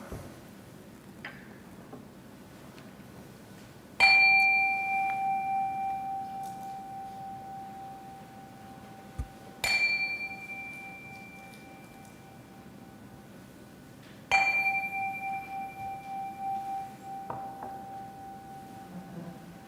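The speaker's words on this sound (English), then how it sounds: "let's settle our minds and calm our hearts with the ringing of our chime" Three clear chime strikes during a Sunday church service, each ringing out and slowly fading, spaced several seconds apart in a quiet room.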